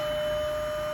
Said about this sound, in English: So you can hear the pump going in the background